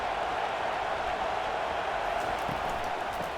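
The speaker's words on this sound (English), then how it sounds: "this crowd trying to help keep them there" Stadium crowd in EA College Football 25, Virginia at Clemson, a dense continuous roar from a large crowd, steady and loud with no distinct voices.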